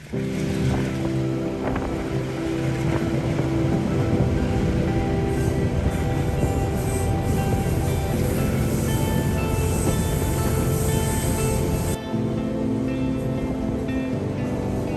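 A loud, continuous rumble and clatter of the Coastal Pacific train heard from its open-air carriage in New Zealand, with wheel roar, wind buffeting and a metallic whine, shifting abruptly in tone near the end.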